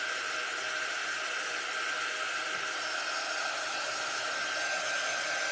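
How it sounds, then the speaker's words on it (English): An electric sander runs steadily throughout at moderate distance, a continuous whirring hiss with a faint tonal whine and no pauses, heard alone without talk. "let me get a sander out"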